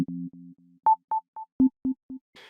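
Pro Tools PlayCell sine-wave synth with an echo effect: a low held double tone, then a series of clean pitched blips repeating in a steady echoing rhythm that fades, ending with a short noisy burst.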